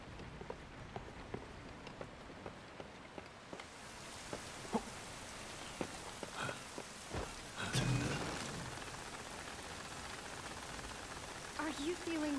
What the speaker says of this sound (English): A hard rain, this.